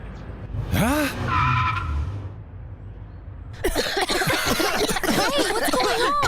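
Cartoon mini car skidding, with squealing, swooping tire screeches in two bursts separated by a short gap, mixed with animated voices and chuckling.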